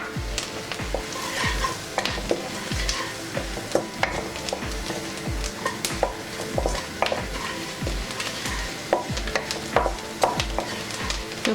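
Cumin seeds fry for jeera rice while a steady sizzle runs under repeated rhythmic scrapes and taps of a spoon stirring the pan, with no talking.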